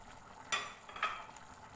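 Chicken afritada with pineapple chunks and green peas is stirred in a pan, giving two quick scraping strokes over a faint background sizzle, quiet and close.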